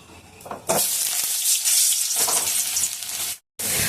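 Two potatoes frying in hot oil give a loud, steady sizzle, close and continuous, which drops to silence for a moment near the end and then comes back.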